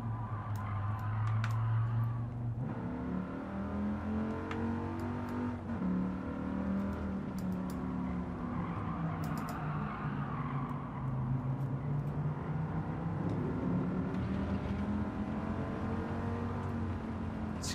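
A Dodge Viper's engine in the Gran Turismo racing game drones and rises through revs during a race at Trial Mountain, its pitch sweeping up and down steadily as gears shift, with no voices.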